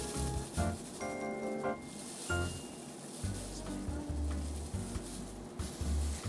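Blue bleach powder being stirred together with developer in a bowl, a close, steady scraping and mixing with short clinks at the start, with no talking.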